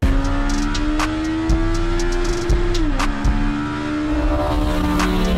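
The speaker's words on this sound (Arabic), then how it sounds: "طب ما تيجوا كده نشوف ونسمع التسارع بتاع العربية" A mini truck fitted with a Hayabusa motorcycle engine accelerates, revving hard with a high, buzzing whine that climbs, dips and climbs again, loud and close, with occasional clunks and knocks.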